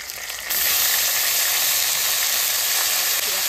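Garlic and leafy greens fry in a wok, a loud, close, steady hiss of steam and sizzling that jumps up as the greens go in and then holds level.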